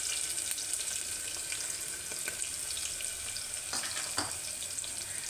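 Onions, garlic and green chilies sizzle steadily in a hot pan, a soft, even frying hiss with a few light stirring clinks and no talk.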